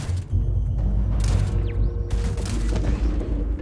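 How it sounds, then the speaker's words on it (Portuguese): Grenade explosions in the sci-fi shooter Starfield: a rapid cluster of loud, booming blasts and crackling bursts packed closely together over a few seconds, with a steady rumbling din between them. "Os caras jogam granada em todo buraco"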